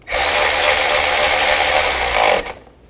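A powered ratchet runs loudly and continuously for about two seconds, tightening bracket bolts on a Chevy Tahoe during fuel injector work, then stops abruptly.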